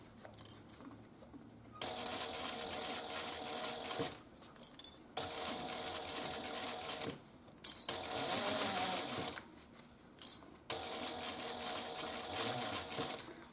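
A sewing machine stitches the Clematis wristlet in bursts of steady whirring, each run lasting a couple of seconds and separated by brief pauses with small clicks and taps, close to the mic.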